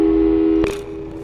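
Telephone busy signal from the Portal 2 video game, a loud steady electronic tone broken by a short click, then quieter afterward, with no voices.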